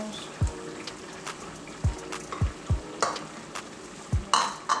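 Ham and tomatoes cook in a pan under a soft, low sizzle, punctuated by several dull knocks and scrapes of stirring spread through the few seconds.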